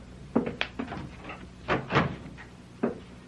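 A door being closed indoors, a series of wooden knocks and thuds with one fuller bump near the end, fairly close and without talking.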